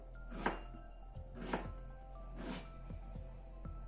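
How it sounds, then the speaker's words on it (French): A knife chops a red onion into small pieces on a board, with three crisp, evenly spaced strokes followed by softer quick knocks, faint and close with no talking. "Je vais commencer par couper mon oignon en tout petits morceaux."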